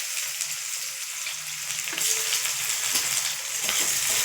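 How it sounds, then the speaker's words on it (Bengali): Chopped onions fry in hot oil in a karahi, a steady broadband sizzle that swells louder midway, with faint scraping stirs and no voices. "পেঁয়াজটা ভেজে নেব।"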